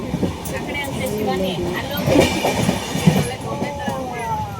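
A passenger train stands at a station platform in Vadodara, with a steady rumble and faint clanks running throughout, mixed with crowd noise and voices nearby.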